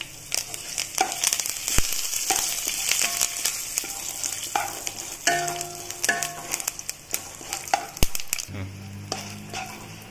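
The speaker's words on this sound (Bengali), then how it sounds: "শুকনো লঙ্কাটাকে ফাটিয়ে দেবো। কারি পাতা," Dry red chillies and curry leaves frying in hot oil for a South Indian puliyogare tempering, a busy crackling sizzle with sharp pops and spatters and occasional stirring clinks throughout.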